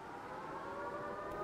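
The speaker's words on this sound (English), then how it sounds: "Suddenly, a siren blare." A siren in the video game Life Is Strange True Colors blares as a steady, droning wail with layered tones, fairly faint and swelling slightly toward the end, with no voices over it.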